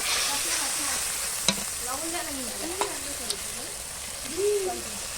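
Loud, steady sizzling as a little water hits a spiced dish cooking in a pan on a wood-fired clay stove, with a few sharp crackles and a voice talking softly underneath.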